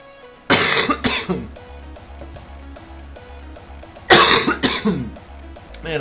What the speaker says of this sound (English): I'm coughing on stream.